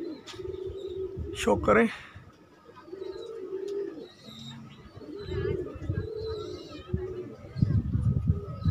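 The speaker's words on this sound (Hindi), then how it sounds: "ये आगे एक कलदुमी कबूतरी आ रही है हमारी" Kaldumi racing pigeons come home to a rooftop loft at the end of a race, with soft cooing and a brief flutter of wings, while someone talks over them and faint bird calls sound in the background.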